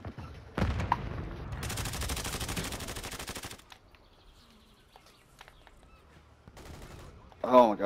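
Gunfire in a first-person shooter video game: a dense burst of rapid automatic shots for a couple of seconds, then quieter scattered pops and game sounds, ending with a sharp loud blast.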